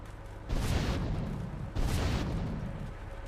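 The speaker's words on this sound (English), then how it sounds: "And finally a rocket launcher for the explosion proofing." Two heavy rocket launcher explosions in the video game GTA 3, each a broad booming burst that rumbles on for over a second, the second following the first after roughly a second and a half, loud against a constant low hum.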